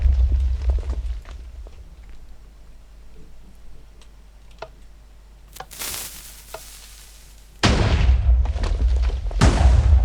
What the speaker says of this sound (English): I can see a cannon going off over here as well.